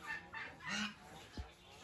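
A few short clucks from a chicken, close by, with brief pauses between them and no talking.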